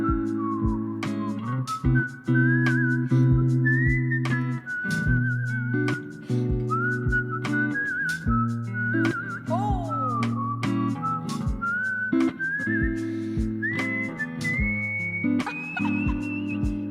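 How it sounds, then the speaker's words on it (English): Whistled melody sung live, shifting into a minor mode, with sustained pitched tones gliding between notes over a steady accompaniment with regular beats throughout. "my challenge to you is to transition into a minor whistle mode at some point"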